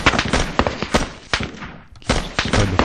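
Rifle fire rattles through a video game battle as loud, close, overlapping shots crack in quick irregular bursts, with a brief lull before the volleys resume.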